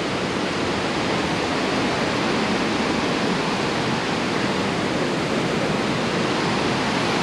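Cumberland Falls waterfall pours in a steady, dense roar of rushing water that stays even and unbroken throughout, with no voices.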